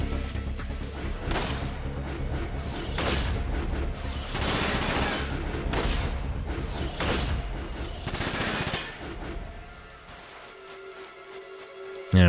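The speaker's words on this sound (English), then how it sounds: "He has to be running out of ammo at this point. He's fired a lot of shots." Mech weapons in the video game Front Mission 5 fire sustained bursts of gunfire, with repeated loud shots and mechanical clatter over several seconds before the firing fades into quieter game sounds.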